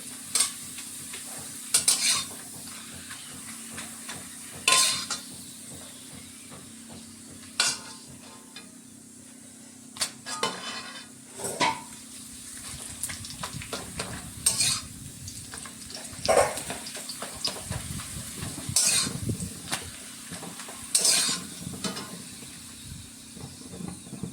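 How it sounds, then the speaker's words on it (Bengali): Papad frying one at a time in hot oil, a soft continuous sizzle with repeated sharp scraping stirs and clatters at irregular intervals, close and fairly quiet, with no talking. "আগে আমি তার জন্য পাঁপড়গুলোকে একটা একটা করে ভেজে নিচ্ছি।"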